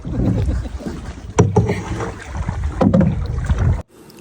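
Canoe paddle strokes dip and pull through water close by, with a couple of sharper splashy strokes over a steady wash of wind and moving water, in Algonquin Provincial Park, Canada.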